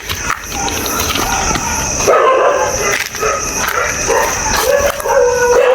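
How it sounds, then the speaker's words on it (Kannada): Dogs bark and howl at night outside a school building, the calls steady and fairly loud, running under a constant buzzing background for the whole stretch. "ನಾಯಿ ಬೇರೆ ಬೊಗಳ್ತಾ ಇದೆ."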